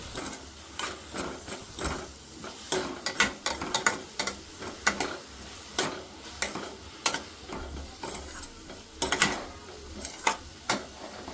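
Jowar flour mixed with a pinch of turmeric is stirred in a pan, making a string of scraping, clattering spoon strokes in uneven bursts over a low, soft sizzle, close and fairly quiet, with no talking.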